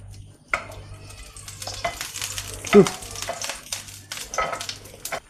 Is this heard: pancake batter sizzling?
yes